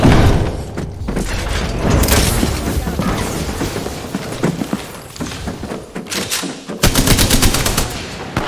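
Rapid bursts of video game gunfire crackle and boom almost continuously, dense and loud with several sharp volleys, while people talk over the shooting.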